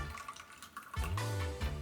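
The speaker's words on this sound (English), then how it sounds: "Finally, pour the caramel into a glass container." Caramel is poured into a glass container: a quiet pause, then a soft, thick liquid stream gurgling steadily for about a second, close.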